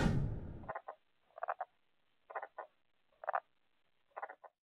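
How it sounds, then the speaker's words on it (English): Short croaking calls of a male tomato frog repeat in pairs at a steady pace, clear against near silence after a brief burst of noise at the start. "male tomato frogs are particularly vocal, using their calls to attract the attention of mates"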